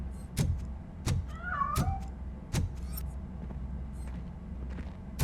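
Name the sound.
cat meowing in video game RoboCop Rogue City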